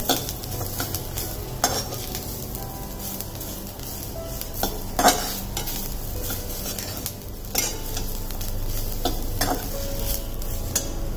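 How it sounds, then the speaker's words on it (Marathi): Ground spice paste sizzles steadily on a high flame as a spoon repeatedly scrapes and clanks against the pan, stirring in irregular strokes close up with no talking. "अजून 2-3 मिनिटं आपण परतून घेऊया। गॅस मोठाच ठेवायचा आपल्याला"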